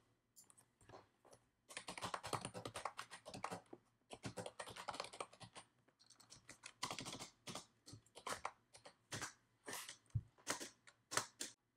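Quiet, close clatter of a computer keyboard as a line of Roblox Studio script is typed, with rapid bursts of keystrokes broken by short pauses, no voice.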